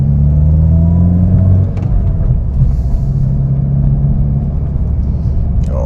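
A 16-year-old Honda car rolls over road bumps on oversized tires, giving a loud, close cabin rumble with low thuds and steady road noise throughout.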